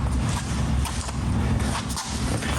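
A 2015 Ford F-150 pickup out on a test drive after brake work, a steady broadband road rumble of tires and engine rolling along with no voices.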